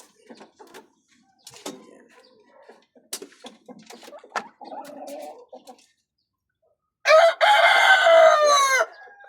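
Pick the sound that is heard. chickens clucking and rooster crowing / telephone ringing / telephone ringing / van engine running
chickens clucking and rooster crowing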